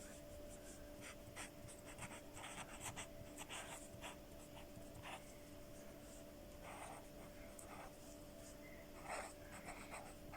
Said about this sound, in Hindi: यहाँ पे मैं इसकी डेफिनेशन लिख रही हूँ।